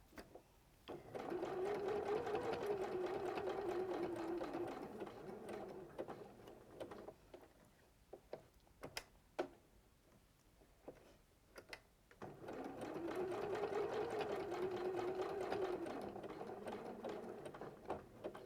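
A sewing machine stitching hexagon patches together while quilting them, with two long runs of steady, fast mechanical whirring that surround a quieter stretch of scattered clicks and handling noises.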